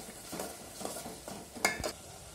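Chicken curry masala with ginger-garlic paste stirred in a pan over high flame, several quiet scraping strokes of a spoon with a faint sizzle and a sharp metallic clink near the end.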